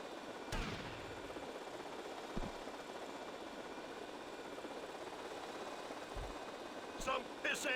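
Scattered gunshots crack out in Grand Theft Auto Vice City, a few sharp isolated reports over a steady hum of game ambience, with a quick cluster of shots near the end.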